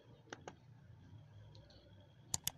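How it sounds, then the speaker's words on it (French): Faint, sharp computer mouse clicks come in small clusters, a pair near the start and a quick triple at the end, over quiet room noise with no speech. "je clique encore sur les 3 points"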